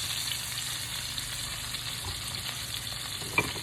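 Pork chops frying in a pan, a steady close sizzle with faint crackles and one brief sharp pop near the end.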